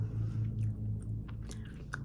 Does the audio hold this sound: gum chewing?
yes